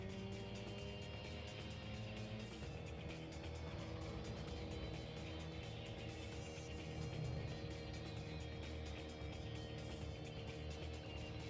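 A race car's engine in the Gran Turismo Concept 2002 Tokyo-Geneva racing game drones steadily through a track race, a quiet, continuous whine with a slowly shifting pitch, alone without speech.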